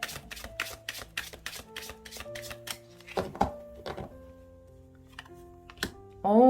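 Tarot cards are drawn and laid out on a table, with crisp slaps and soft shuffling snaps in an uneven sequence, close up, some later hits louder, and a brief voice at the very end.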